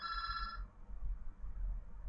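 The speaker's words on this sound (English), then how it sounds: "Sorry, that's my phone." Phone ringtone with a bright electronic tone that sounds for about half a second, then cuts off, leaving quiet low room rumble.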